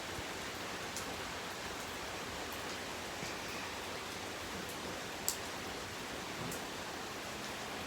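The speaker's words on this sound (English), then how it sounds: "Ooh, it's raining today." Steady rainfall, a soft, even hiss of falling rain with occasional faint drips, continuous and fairly quiet throughout, with no voices.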